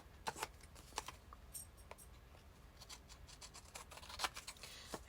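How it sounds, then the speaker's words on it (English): Quiet, close snips of scissors cutting paper while evening off the edge of a small handmade Christmas book, several separate sharp cuts spread over a few seconds with soft paper rustling between. "I'll cut this to even it off."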